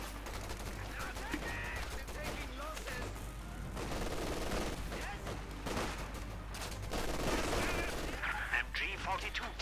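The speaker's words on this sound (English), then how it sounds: "Light machine gun though does even up the odds." Light machine gun fire in the Company of Heroes 2 strategy game comes as dense, rapid bursts over constant battlefield noise, with other gunfire mixed in.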